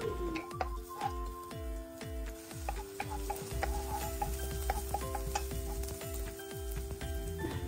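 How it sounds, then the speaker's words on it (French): Minced garlic and shallot sizzle steadily in a little oil in a frying pan, with repeated stirring scrapes and clicks across the whole stretch, close and fairly loud, no talking. "Je fais revenir l'ail haché, l'échalote dans une poêle avec un peu d'huile et je mélange bien."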